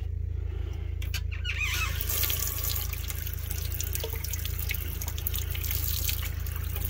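Water runs steadily from a tap inside an RV on a very cold day, a continuous close hiss and splash with a low hum beneath and a few small knocks near the start.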